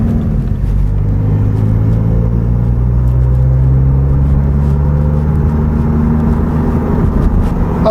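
A 2017 Subaru WRX engine running under about 18 psi of boost, a steady, loud, close low rumble with a continuous drone that holds even throughout, with no voices.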